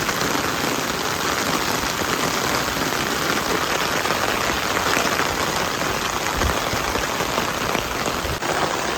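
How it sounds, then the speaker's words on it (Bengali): Steady rain pours down in a Bangladeshi village, a dense, continuous hiss of drops striking leaves and surfaces close by, unbroken for the whole stretch with no voices. "অনেক সুন্দর বৃষ্টি নামছে।"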